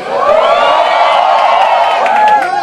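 A large concert crowd at the Emergency concert cheers and screams continuously, a loud, dense wall of voices with higher whoops rising through it.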